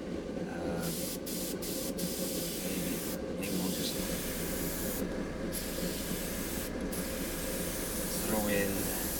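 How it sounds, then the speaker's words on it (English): A spray paint can hisses steadily while painting a skull, a loud continuous spray broken by a few brief pauses, with someone speaking quietly underneath. "I'll give it a light spray."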